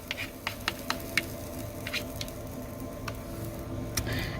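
Pancake batter for a small silver dollar pancake poured onto a pan in a van kitchen, with soft squishing and a few sharp ticks and sizzles over a low background hum.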